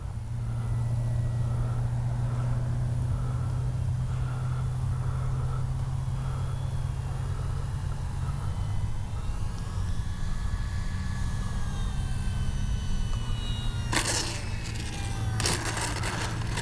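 A Durafly 1100mm T-28 RC airplane comes in to land with gear and flaps down, giving a steady electric motor and propeller whine over outdoor rumble, followed near the end by a couple of short, sharp bumps as it touches down.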